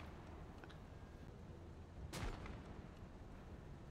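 An anti-tank gun in the WWII game Gates of Hell fires a single sharp shot at a Panzer 38T tank, a brief cracking blast that rises out of a quiet low rumble and fades quickly.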